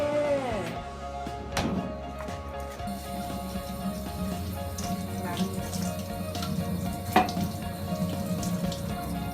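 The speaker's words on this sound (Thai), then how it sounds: "เดี๋ยวล้างสลัดแล้วค่อยว่ากันเนาะะ ง่ายๆแล้วแค่ล้างผัก" Salad greens washed under a running kitchen tap, a steady close splash and rush of water with a few sharper clinks and knocks, with faint voices in the background.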